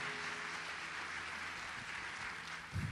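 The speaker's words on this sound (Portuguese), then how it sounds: "Vamos aplaudir a fé do pastor, pessoal." Steady applause from a church congregation, a dense continuous patter of clapping hands that holds evenly throughout with no talking.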